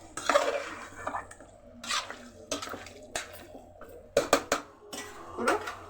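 A utensil scrapes and clinks against a cooking pot while chicken is stirred for a country chicken curry, with intermittent bursts of clatter and wet shuffling, close and moderately quiet, with no voices.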